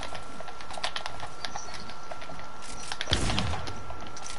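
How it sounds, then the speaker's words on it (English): Rapid clicks of a computer keyboard and mouse, crisp and close, pattering in an irregular rhythm over a faint steady hum, with one louder thump near the end. "You sound like you're on keyboard and mouse in your stream"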